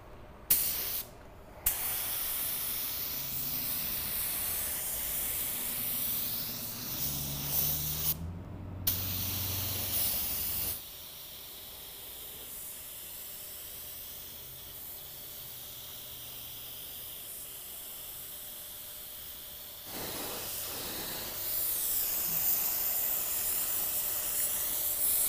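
A budget paint spray gun sprays steadily with a continuous loud hiss of atomized air and paint, briefly pausing twice early on and swelling louder toward the end.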